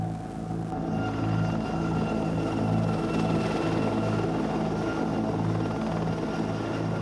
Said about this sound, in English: Tiger, one of the world's latest attack helicopters in action.